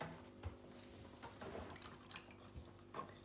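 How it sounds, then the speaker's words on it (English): Water trickles and drips from an unscrewed washing machine filter into a catch container, quiet and uneven, with small splashy drops scattered through a soft running flow and no talking. "as you can see there's water coming through now."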